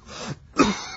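A person coughs and clears their throat in an audiobook, two rough bursts separated by a short pause, close and alone without other voices.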